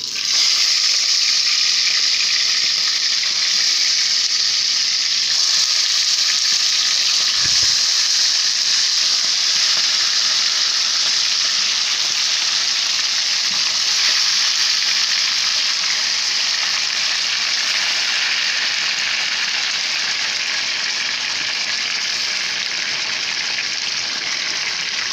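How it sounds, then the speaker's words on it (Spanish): Chicken pieces fry in caramelized sugar in a pan for a pollo guisado, producing a loud, steady, close sizzle that hisses on without a break. "Ahora voy a agregar el pollo."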